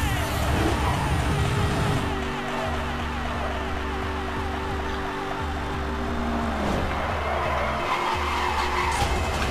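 Car engine roaring with tire squeal as a car drifts and skids in the racing game Need for Speed Hot Pursuit, loud and continuous, with the engine note rising and falling across the slide.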